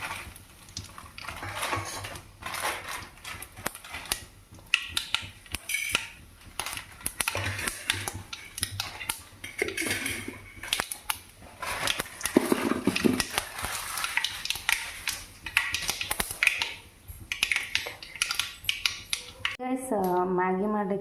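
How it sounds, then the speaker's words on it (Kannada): Mustard seeds and curry leaves dropped into hot oil in a home kitchen, giving a dense, crackly sizzle with scattered pops and utensil clinks that continues for about twenty seconds. "ಇವಾಗ ಎರಡು ಸಾಸಿವೆ ಕಾಳು ಮತ್ತು ಕರಿಬೇವು ಸೊಪ್ಪನ್ನು ಹಾಕ್ತಾ ಇದ್ದೀನಿ"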